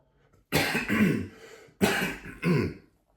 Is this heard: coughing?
yes